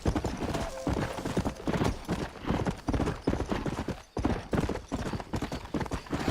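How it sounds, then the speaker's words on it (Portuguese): Horse hooves clip-clop steadily in the Red Dead Redemption video game, a continuous close rhythmic trot lasting several seconds with a brief pause midway, loud and clear with no talk over it. "Achei esse cavalo aqui"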